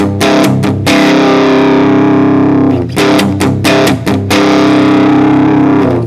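A loud, heavily distorted electric guitar strikes a sustained power chord, followed by several choppy, rhythmic chord stabs.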